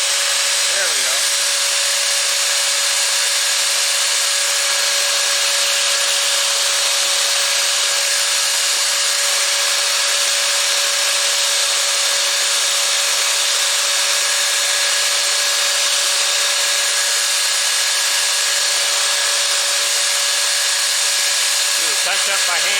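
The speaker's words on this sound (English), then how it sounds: "we should be able to sand that out" A wooden lace bobbin spins on a lathe while being sanded, giving a steady high whirring with a constant tonal whine throughout, loud and unbroken with no talk.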